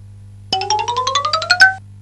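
A school assembly bell in a cartoon rings as a quick run of about a dozen bright, rising chimes lasting just over a second, loud and clear over a faint steady hum.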